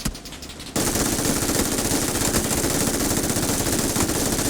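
After a brief quiet moment, an MG3 machine gun in PUBG opens up in a loud, unbroken stream of rapid automatic fire that runs steadily to the end, with no voices.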